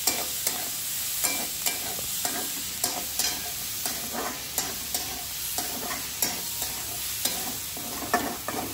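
Onions fry over high heat in a pan while a spoon stirs them at a regular rhythm, crisp scraping knocks about once a second over a constant close sizzle.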